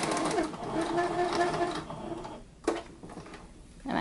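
Home sewing machine straight stitching a quarter inch from the edge of a pleated fabric mask, a fast steady whirring run that stops, followed by a few short clicks and bursts, close by.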